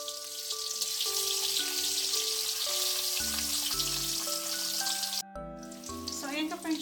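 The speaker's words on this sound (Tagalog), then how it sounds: "ipiprito na din natin yung ating kamote or yung ating sweet potato" Sweet potato (kamote) fries in a wok, a constant hissing sizzle running underneath a melodic background music track for the whole stretch.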